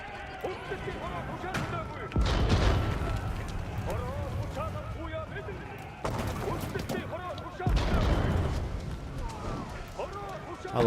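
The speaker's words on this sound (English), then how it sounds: "I love these cannons. These are like the coolest thing." Cannons fire in the video game Age of Empires IV, heavy booming blasts landing at intervals amid battle noise and clatter, with someone talking over the action throughout.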